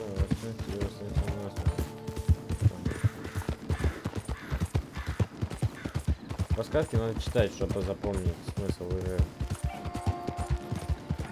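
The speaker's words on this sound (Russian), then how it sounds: "Выносливость расходится, когда лошадь скачет галопом или прыгает." A horse gallops in the video game Red Dead Redemption 2, rapid rhythmic hoofbeats running steadily throughout at moderate level, with someone talking in Russian over them and game music in the background.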